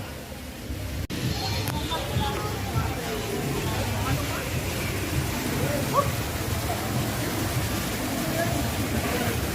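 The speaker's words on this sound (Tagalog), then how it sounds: "Umuulan." Steady rain falls outdoors at a company outing near a pool, a constant broadband hiss with splashing water, while people chatter in the background throughout.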